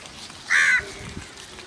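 A crow gives a single loud, harsh caw close by at a lakeside in the morning, against quiet outdoor ambience, while birds gather to eat food thrown for them.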